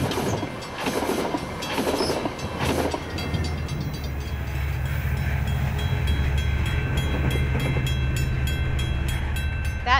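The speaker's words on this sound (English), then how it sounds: "That train, it's going 50 miles an hour." A train passing at about 50 miles an hour, a loud continuous rumble with rhythmic clicking of wheels over rail joints, growing steadier as it rolls by.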